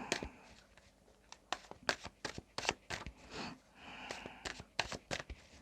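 Tarot cards being shuffled in repeated quick riffles and snaps, close and crisp, with short pauses between bursts and no talking.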